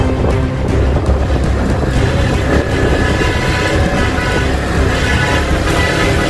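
Car edging past a large group of motorcycle riders on a road, a continuous loud rumble of engines with a horn toot near the start, close and dense with no clear speech.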